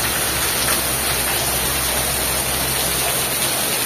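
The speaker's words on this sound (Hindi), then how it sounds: "पूरा गदगदिया वर्षा होची।" Heavy monsoon rain pours down without a break during fish cleaning outdoors, a dense, loud, even roar of water splashing everywhere, with no voices over it.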